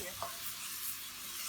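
Cabbage and mixed vegetables sizzle steadily in a pan while being stirred, a soft continuous frying hiss with a light scrape near the start.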